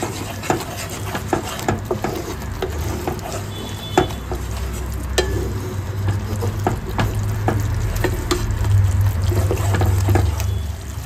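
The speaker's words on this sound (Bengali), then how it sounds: "ভালো করে তারপরে আবার মিক্স করে নেব।" Salted food mixture stirred steadily in a pan, with continuous soft sizzling and repeated scraping strokes of the spoon, close and moderately loud, no talking.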